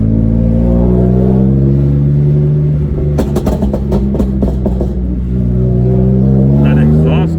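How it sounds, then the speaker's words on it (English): A BMW F80 M3 exhaust roars close and loud as the engine revs, with bursts of crackle in the middle, while people talk over it. "That exhaust note."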